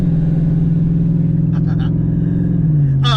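Ford F-150 truck fitted with a Coyote V8 engine on its first drive, giving a steady, loud low engine drone that holds throughout and dips slightly in pitch near the end, with a brief rustle over it.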